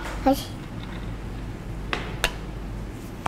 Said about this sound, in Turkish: Birazcık da buz atıyoruz.